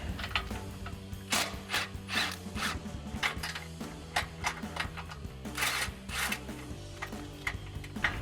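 Ratchet with an 18mm socket removing nuts from a Jeep Gladiator front bumper, rapid close clicking in repeated bursts of cranking strokes, with no talking.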